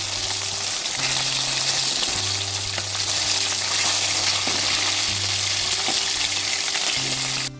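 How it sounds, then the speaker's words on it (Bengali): Koi fish being turned over as they fry in hot oil, with a constant loud crackling sizzle, bubbling surges and a few clinks of the turning utensil over a low hum; no one speaks. "মাছগুলো উল্টে পাল্টে ভেজে নিচ্ছি"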